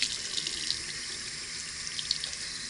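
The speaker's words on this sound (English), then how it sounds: "I'm just going to get a little bit of water." Tap water runs steadily onto a bar of handmade soap to wet it, a close, continuous hiss and splash with no voices.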